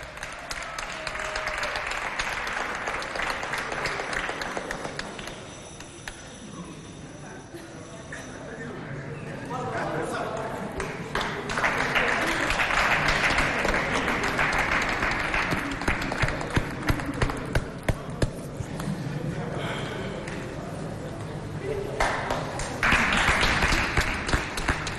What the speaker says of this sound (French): Applaudissez pour...